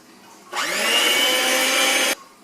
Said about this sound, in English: So now you will see me go ahead and start to mix the cake.